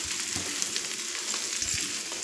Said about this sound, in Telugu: చికెన్ ఫ్రై అయిపోయింది.